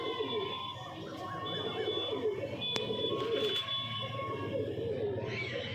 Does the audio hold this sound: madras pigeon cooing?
yes